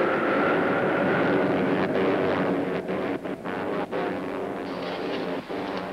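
A propeller aircraft losing altitude in a 1943 film, a steady loud engine drone with wind rush throughout, dipping slightly in the second half.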